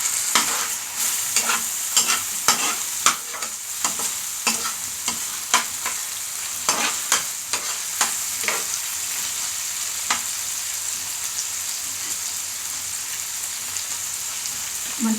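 A spoon or spatula repeatedly scrapes and taps through a sizzling mixture in a pan, quick irregular strokes over a constant gentle hiss, close up, stirring thinning out toward the end.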